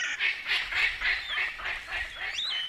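A palm cockatoo gives a string of loud, harsh, nasal honking calls in steady rhythm, close and clear for under three seconds, ending on a rising whistled note.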